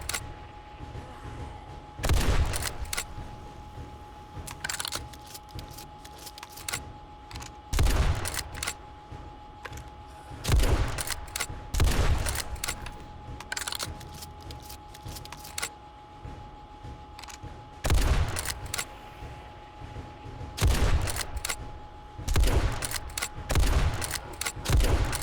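7.62 rounds fired in 7 Days to Die during a night horde, as sharp, loud single shots and short clusters at irregular intervals over a steady low hum, no talking.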